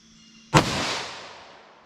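A .357 SIG round fired from a 5-inch-barrel M&P pistol over a chronograph makes a single sharp, loud gunshot followed by a short fading echo.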